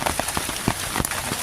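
Steady rain patters on a hard surface, a dense hiss broken by scattered louder drips and splats across a short stretch.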